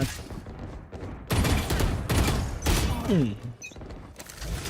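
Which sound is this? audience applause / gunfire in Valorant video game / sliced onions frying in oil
gunfire in Valorant video game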